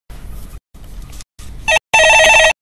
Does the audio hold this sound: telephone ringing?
yes